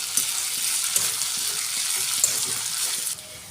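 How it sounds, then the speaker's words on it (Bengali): Potato pieces fry in hot oil for a mushroom dish, giving a close, even sizzle that carries on for a few seconds and then eases off near the end. "আমি এই আলুটা বেশ ভালো করে ভেজে নেব।"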